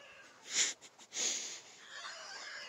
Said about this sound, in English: Oh, that's a weird bird. Very, very weird bird noise.